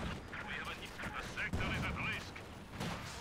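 Rapid gunfire cuts down infantry in the real-time strategy game Company of Heroes 2, with crackling shots and bursts mixed among battle noise while a commentator talks over it.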